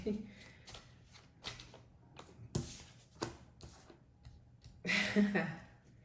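A deck of tarot-style cards shuffled by hand, giving a series of short papery riffles and flutters at close range, with a louder burst near the end over a quiet room.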